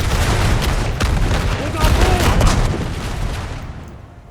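Massed musket volleys in the battle game Napoleon Total War, Prussian and Uhlan units engaged, dense crackling gunfire and booms rolling together, loud at first, then fading away toward the end.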